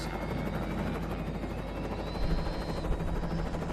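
Helicopter in a video game during an agency finale mission, its rotor giving a steady, loud, close whirring chop with dense broadband engine noise throughout, swelling slightly near the end, with no voices.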